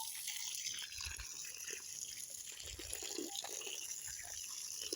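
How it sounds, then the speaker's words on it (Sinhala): Water trickles and splashes steadily onto soil for several seconds while planting turmeric, with soft dripping and pouring sounds close by and no talking. "මම වතුර ටිකක් දාගන්නවා දැන් හොඳට"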